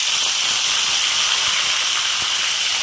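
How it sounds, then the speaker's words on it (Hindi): Tomatoes hit hot frying onions in a pan, giving a loud, steady sizzle and hiss that fills the whole short stretch without pause. "अब उसमें हम डाल देते हैं टमाटर।"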